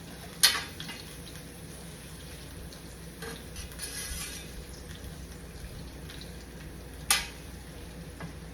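Food sautéing in a pan at a home stove, a steady soft sizzle and fry running throughout, broken by a couple of sharp utensil clinks against the pan near the start and end.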